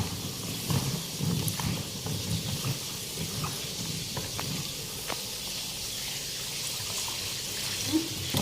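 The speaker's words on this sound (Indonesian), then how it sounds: "kemudian kita akan mencuci ketela tersebut dengan air" Cut cassava pieces being rinsed in water, with a steady splashing, trickling wash and occasional light knocks close by, continuous throughout at moderate level.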